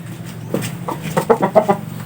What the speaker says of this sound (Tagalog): Pakita ko sa inyo yung pares niya na brood hen.